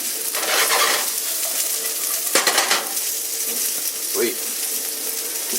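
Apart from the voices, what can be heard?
steak searing in a cast iron pan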